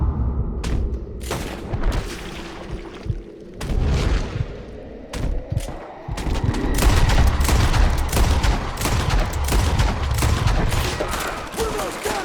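Red Dead Redemption 2 gunfight, with loud, rapid, continuous gunfire, repeated sharp shots and booming bursts building to a dense barrage in the second half.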